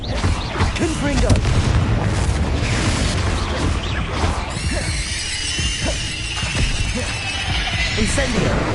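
Loud, dense blasts of the Confringo explosive spell in the game Hogwarts Legacy, with booming impacts and crashing debris running on throughout amid squeals and other battle noise.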